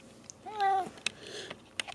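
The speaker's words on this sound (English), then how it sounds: "And when I touch her, she always meows." A blue-eyed house cat meows once in a drawn-out, rising and falling call at close range, followed by a few short soft chirps and light handling noises in a quiet room.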